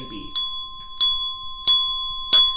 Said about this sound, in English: you keep the steady beat and I'll play it on the bell